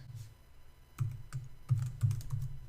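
Computer keyboard typed in short irregular bursts of clicky keystrokes, close and fairly quiet, with brief pauses between runs; no voice.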